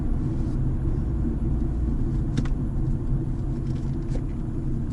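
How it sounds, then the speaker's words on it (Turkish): Steady low rumble of a Fiat Egea Cross 1.4 engine while driving, a continuous droning hum with road noise and no talking. "motor sesi tahrik ediyor onu söyleyeyim"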